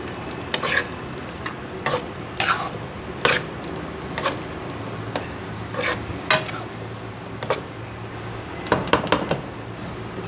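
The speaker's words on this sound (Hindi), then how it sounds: "इसको अच्छे से भून के फिर हम इसमें आलू ऐड करेंगे।" Keema masala with red and green chilies is fried in a pot while a spoon stirs and scrapes it, making repeated sharp metallic clinks in irregular bursts over a steady close sizzle, with no speech.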